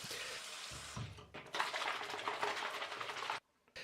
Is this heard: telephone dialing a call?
no